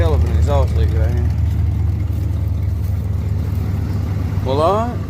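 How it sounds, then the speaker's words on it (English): A rough, rumbling 1979 Chevy C20 truck engine with an exhaust leak idles steadily with a low chugging exhaust throb, while someone talks over it near the start and end. "Dude got a hell of an exhaust leak right here."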